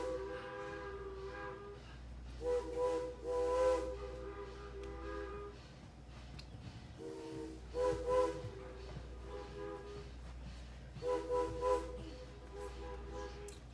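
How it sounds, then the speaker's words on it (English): Steam locomotive whistle at the Strasburg railroad, sounding in three separate blasts with a clear echo trailing each one, over a steady low engine rumble at a standstill. "The engineer blows the whistle. You hear not only the whistle itself, but also the echo of the whistle."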